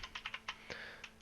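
Fast typing on a computer keyboard, heard as a quick run of about half a dozen light key clicks over a faint steady hum.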